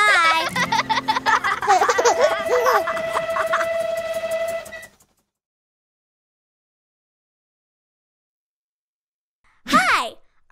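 A voice imitates a cartoon train in a nursery-rhyme dance song, chugging and whistling with sung tones for about five seconds, then silence before a brief voice returns at the end.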